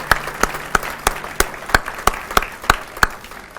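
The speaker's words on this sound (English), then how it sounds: "it's time that you all have a round of applause" Sparse, slow clapping from a small audience at a volunteer breakfast in Farmington Hills, about ten distinct claps at an even pace, close and fairly crisp.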